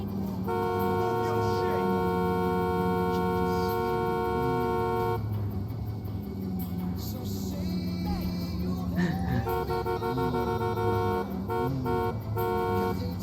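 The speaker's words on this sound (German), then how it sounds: "Eine Hupe geht da vielleicht weg." Car horns honk repeatedly in Grand Theft Auto IV, sustained tonal blasts over street traffic noise, with someone talking over them.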